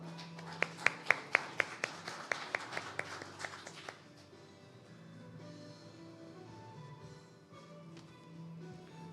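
A small audience at a youth forum in Ulsan claps to welcome a speaker delivering the opening address. Roughly a dozen crisp, separate claps land over a few seconds, then fade into a quiet room murmur.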